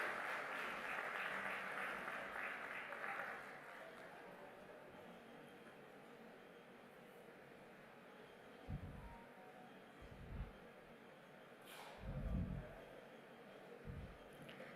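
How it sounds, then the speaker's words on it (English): Audience applause for dignitaries on stage at a conference, a steady, fairly distant wash of clapping in a large hall that thins out, with a few louder thumps toward the end. "Let's give a round of applause for all our dignitaries on the stage."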